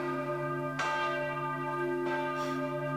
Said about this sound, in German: Was ist das für ein Glockenlüden?